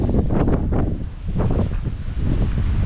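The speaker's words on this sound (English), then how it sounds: "you probably can't hear me because of the wind" Strong wind buffets the microphone on a cliff-top stretch of England's South West Coast Path, a loud, continuous roar with gusty swells and no voices.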